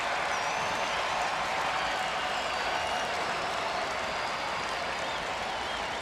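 Baseball stadium crowd at a Twins versus Astros game applauding and cheering, a dense, steady roar of clapping and voices that holds loud and unbroken throughout.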